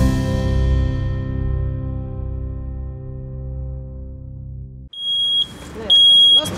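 A long ringing electronic tone slowly fades out and is followed by a smoke detector's piercing high beeps. The beeps sound twice near the end, loud and sharp.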